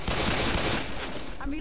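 Rapid automatic gunfire in the Left 4 Dead 2 zombie shooter, Ruination map, a dense continuous burst of shots filling the whole moment with voices mixed in beneath.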